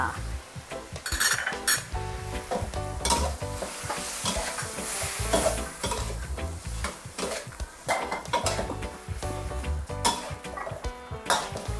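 Garlic shrimp stir-frying in a pan with a little sugar added, a loud steady sizzle broken by frequent scraping and clinking of a utensil against the pan, close and continuous with no talk.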